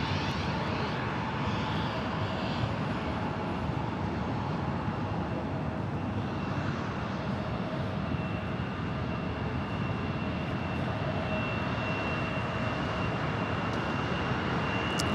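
Steady, loud roar of airliner jet engines at Los Angeles International Airport (LAX), a continuous broadband rumble holding for the whole stretch with a faint high whine riding over it, no voices.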